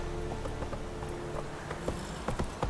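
Roach, a horse in The Witcher 3, gallops with steady, rhythmic clip-clop hoofbeats at moderate distance, with a few sharper strikes near the end.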